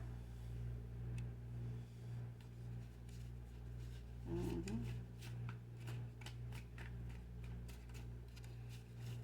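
Tarot cards being shuffled and drawn, a soft papery riffle and scattered crisp card flicks running throughout over a steady low background hum, with a brief muffled voice partway through.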